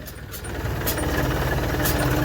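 A tractor engine runs close by with a steady low throbbing idle and rhythmic knocking pulses, loud and continuous, without talk.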